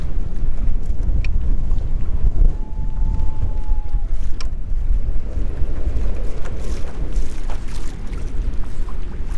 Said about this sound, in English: Here comes that 25-mile-an-hour winds they were talking about.